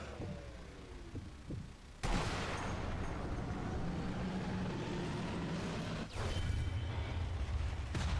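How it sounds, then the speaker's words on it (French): A convoy truck explodes suddenly in the video game Sniper Elite V2, followed by a long roaring rumble and a second blast a few seconds later, heavy and close. "On va revoir la magnifique explosion."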